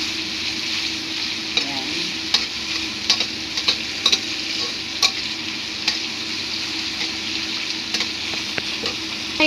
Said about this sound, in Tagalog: At saka natin halo-halo-haloin. Hanggang sa yung tomato ay maluto.